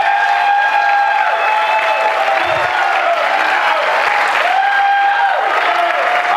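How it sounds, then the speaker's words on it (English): Audience applause at a televised mayoral debate held at a learning institution, a loud steady wash of clapping from a large crowd lasting several seconds without letting up. "One more round of applause"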